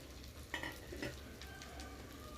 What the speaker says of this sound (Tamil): கருவேப்பிலையை போட்டுட்டு சின்ன வெங்காயத்தை போட்டு கொஞ்சம் நேரம் வதக்கிடலாங்க